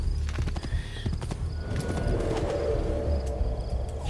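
Horse hooves clip-clopping on ground in the video game Assassin's Creed 2, a steady rhythmic trot under faint bird coos and game ambience, no talking.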